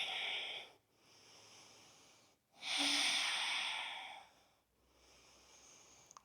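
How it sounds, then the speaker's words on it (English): Deep, slow yoga breaths sound close and airy, a long exhale, a short pause, then a fuller inhale and another exhale, each a soft breathy rush separated by brief silences. "Take another full breath in and out."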